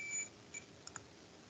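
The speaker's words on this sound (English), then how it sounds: "the multimeter gives a beep, meaning it's shorted off" A multimeter's continuity test on a shorted metal part gives a few short, faint electronic beeps, one longer tone early on followed by a brief one and then two quick chirps, over quiet room hiss.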